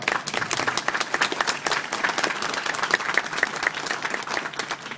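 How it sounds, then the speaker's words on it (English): Audience applause at a Toronto talk fills the whole stretch, steady dense clapping from a large crowd with no voices over it. "no applause required"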